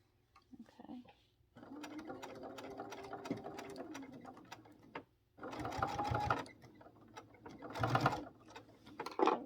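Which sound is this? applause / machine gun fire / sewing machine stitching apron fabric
sewing machine stitching apron fabric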